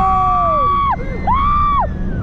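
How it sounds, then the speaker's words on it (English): A man screams on a fairground ride at a winter funfair in Hyde Park, his loud, sustained wailing cries rising and falling in two long bursts over constant ride and crowd noise. "What a scream that guy's got."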